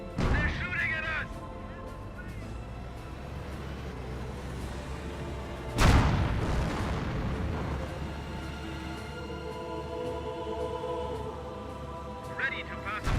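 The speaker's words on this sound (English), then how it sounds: "They're shooting at us." Battle in the video game Company of Heroes 1: rumbling gunfire and artillery run throughout, with one loud, close crash of fire midway and brief voice chatter at the start and end.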